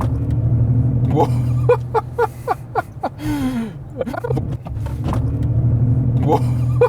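A Mercedes-Benz EQS electric car accelerates in sports mode with a synthetic sound-feedback drone humming steadily in the cabin, while voices inside exclaim and speak over it.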